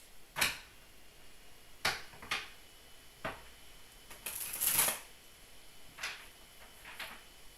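Soft riffling bursts of tarot cards being shuffled, several separate flicks spread out in a quiet room, with a slightly longer shuffle in the middle.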